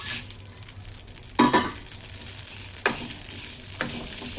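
Ingredients dry-roast in a pan without oil while being stirred, producing a low continuous sizzle with a few crisp spatula clinks and scrapes against the metal, with no voices.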